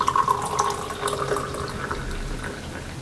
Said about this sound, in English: I'm going to decant my tea.